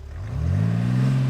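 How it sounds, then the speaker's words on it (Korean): A BMW X6 30d diesel SUV in comfort mode revs its engine, the exhaust note rising from a low rumble into a smooth, swelling drone, close by and with no voices. "컴포트 모드 배기음을 보여드리겠습니다"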